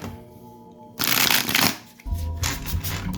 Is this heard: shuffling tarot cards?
yes